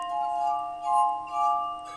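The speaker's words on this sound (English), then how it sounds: "are you talking about the glass harmonica?" Glass harmonica played by rubbing wine glasses, giving sustained pure ringing tones that swell twice in loudness, steady and clear with no voices.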